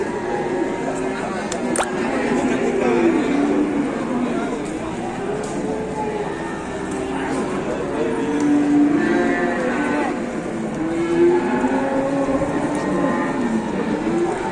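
Cows moo in long, low calls amid people talking and a constant outdoor rumble, after an agitated cow came down from a truck.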